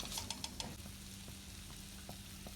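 Mango pickle paste with coconut oil is stirred in a pan on low flame: a faint, steady sizzle with a quick run of spoon scrapes at the start and scattered soft clicks after.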